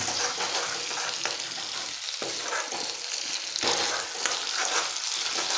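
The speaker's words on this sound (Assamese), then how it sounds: "নহৰু আদাৰ গোন্ধ ওলোৱালৈকে আমি ভাজিম।" Ginger and garlic paste sizzling in hot oil over a medium gas flame, a continuous close crackle with occasional stirring scrapes.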